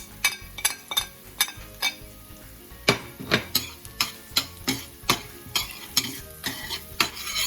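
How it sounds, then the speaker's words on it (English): Onion stirred in a pot with bouillon cubes, thyme and pimento grains for brown stew chicken, the spoon scraping in a quick steady rhythm of clinks over a soft sizzle. "And I'm just gonna stir this around."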